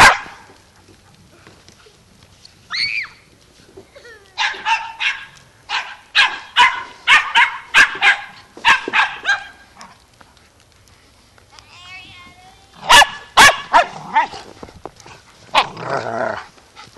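A dog barks in a rapid series of loud, close yaps with some growling, interrupted by short pauses, while a person calls out to it during a winter outing.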